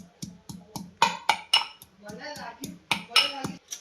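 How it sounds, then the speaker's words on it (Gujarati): Garlic is crushed for garlic chutney with steady, rhythmic pounding, about three dull thuds a second, some with bright metallic clinks, close and clear with nothing else behind it. "લસણ કમ્પ્લીટ કચરાઈને તૈયાર થઈ ગયું છે"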